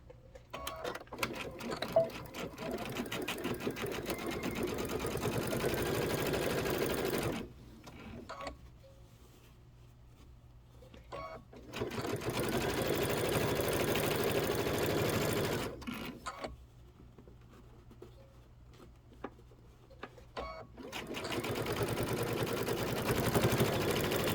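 A sewing machine stitching a back stitch while assembling a Kimberbell Cup of Cheer project, running in long steady bursts separated by brief quieter pauses, close and mechanical.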